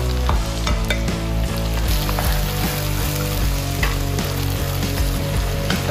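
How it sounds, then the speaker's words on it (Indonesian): Tomatoes sautéing in a pan with curry leaves for a Malaysian chicken perattal, a continuous loud sizzle and frying hiss with stirring throughout and a steady musical backing underneath. "Kita bagi tomato tumis betul-betul. Cair."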